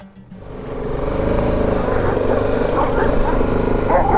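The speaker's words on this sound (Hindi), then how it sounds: "इनको रेस देने, आवाज़ निकालनी है बाइक की हैं।" A motorcycle on a road trip through Iran revs its engine, climbing quickly from a low idle to a loud, sustained, rough roar that stays close throughout.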